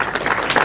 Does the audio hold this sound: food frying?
no